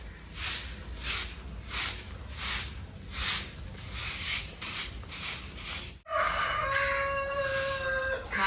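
A rooster crows in a quiet village street, a series of rising and falling calls repeating at a steady pace before a sharp cut, then a busier background with tonal chirps and clatter.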